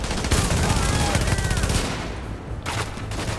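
Rapid video-game shotgun blasts, loud and close, come in a dense burst of repeated shots, then taper off before a couple of final cracks.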